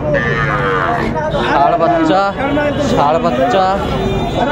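A young bull calf, about five and a half months old, lows several times at a busy cattle market, with loud drawn-out moos rising over a hubbub of people talking nearby.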